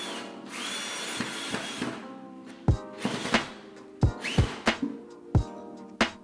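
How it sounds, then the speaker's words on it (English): A power drill driving two screws through a curtain rod bracket into wood behind a wall, a close whirring drill whine followed by a series of short bursts and clunks. "what I needed to do is just to secure this bracket with 2 screws"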